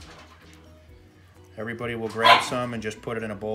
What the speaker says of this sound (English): My dog's making a racket in the background.